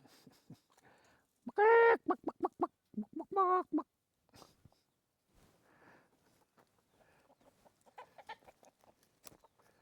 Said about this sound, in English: couple of chooks hanging around